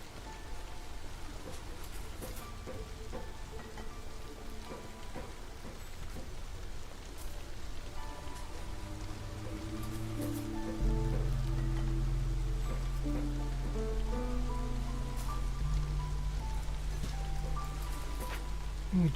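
Steady rain falls through drizzle season in the city-building game Against the Storm, a broad continuous hiss that swells slightly louder partway through, layered over soft game music with no voices.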